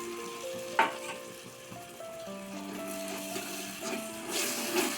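Tomato paste frying and being stirred for Bengali aloo dum, a soft sizzle with scraping stirs and a few clinks over faint background music tones, fairly quiet and steady.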